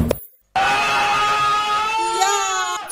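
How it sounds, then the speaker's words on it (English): Children shouting loudly together, a sustained strident vocal cry that starts abruptly after a brief silence and holds at high volume to the end. "That's shouting."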